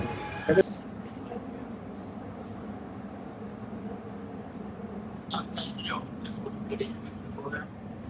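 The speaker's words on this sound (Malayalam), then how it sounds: "ഇപ്പോൾ ഗൈസ് മെട്രോ ഇറങ്ങി" A Mumbai metro train gives a steady, low rumble with faint metallic clinks throughout, and a brief louder knock near the start. Indistinct voices murmur in the background.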